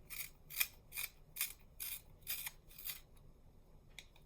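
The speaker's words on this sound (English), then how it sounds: "I got to sharpen a little." A drawing tool being sharpened, heard as a series of about eight quick, crisp scraping strokes in a regular rhythm, close and fairly quiet, with a last faint stroke after a pause.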